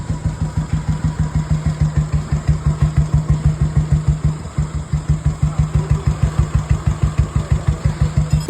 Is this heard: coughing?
no